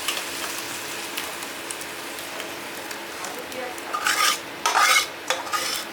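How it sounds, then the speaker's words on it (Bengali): A spoon scrapes and scoops thick tomato chutney from a pan in a few short, wet, clattering bursts near the end, following a soft steady background hiss; someone speaks around it. "চলুন বার করে নিই আমি এই যে চাটনিটা বার করে নিচ্ছি"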